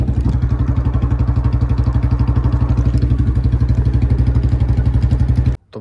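A Royal Enfield Bullet motorcycle runs with a loud, close, steady rhythmic thumping engine beat that continues evenly until it cuts off abruptly at the end.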